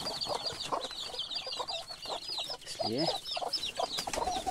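Village chickens in a coop cluck repeatedly, close and busy. A rooster-like call rises briefly midway, and a person speaks a word over them.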